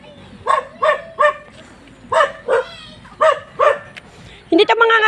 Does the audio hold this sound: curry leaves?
no